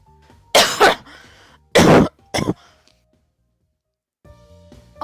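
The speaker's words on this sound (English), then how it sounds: "I couldn't hold that cough back any longer." Three loud, close coughing bursts from one person in quick succession, the last shorter, followed by quiet and a faint resumption of sound near the end.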